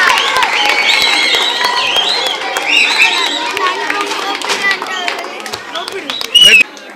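Schoolchildren clapping together at a primary school event, a dense burst of many hands near and fairly loud, thinning and fading toward the end amid voices and chatter.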